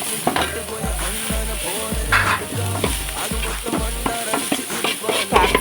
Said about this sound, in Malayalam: പിന്നെ ഞാനും ഇക്കായും കൂടി ഇങ്ങനെ ഇളക്കി മടുപ്പ് കഴിച്ചു.